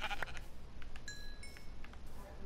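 A Minecraft sheep bleats in a short wavering cry near the start, followed by faint clicks and soft game tones at low volume.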